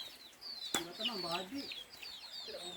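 Young chickens cluck and chirp softly nearby in short, irregular calls, with a sharp knock partway through and a quiet background.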